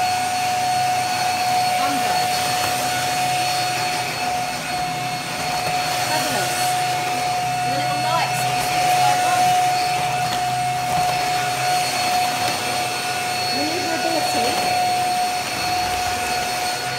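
A Shark powerhead vacuum cleaner runs with a steady whirring roar and a constant high whine while a presenter talks over it throughout.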